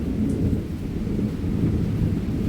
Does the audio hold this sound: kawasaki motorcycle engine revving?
no